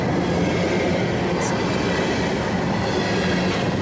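An empty coal train hauled by rebuilt AC44 locomotives rumbles past nearby in a steady, loud roar of wheels and cars, with faint brief squeals, no talk heard.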